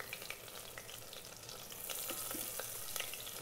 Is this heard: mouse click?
no